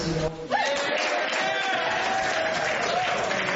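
A crowd gathering of a conservative advocacy group claps steadily in a continuous, moderately loud wash of applause, with no other prominent sounds over it.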